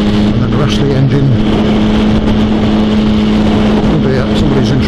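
A motorcycle engine pulls hard on a fast road ride in lane two at about 70, giving a loud, steady droning roar with wind rush that continues through the whole stretch.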